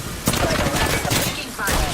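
Dense bursts of gunfire in a ranked solo match of a shooter game, rapid overlapping shots and thuds that crackle near and loud across two seconds, with no talking over them.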